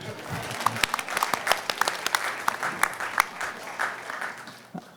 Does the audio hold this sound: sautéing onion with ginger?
no